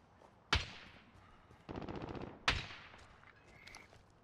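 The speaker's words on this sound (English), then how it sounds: "I heard somebody sniping up at this house." Gunfire in Call of Duty: Modern Warfare: two sharp, separate shots about two seconds apart, with a short rapid burst of automatic fire between them, fading into quieter background game noise.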